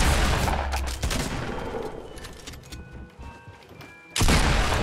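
A loud burst of gunfire in Fortnite opens, followed by scattered shots and mechanical clatter, then another sharp blast at the end.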